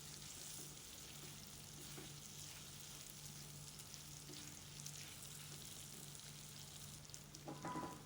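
Sliced onions with salt frying in a pan for garlic rice, giving a soft, continuous low sizzle heard fairly faintly, with a brief stir or scrape near the end.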